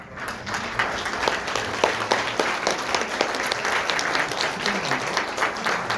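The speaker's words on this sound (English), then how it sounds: "I think I will stop here with a round of applause for our panelists" Sustained audience applause for panelists at an international statistics conference in a Seoul hotel, a steady dense clapping from a sizable crowd lasting throughout without talk.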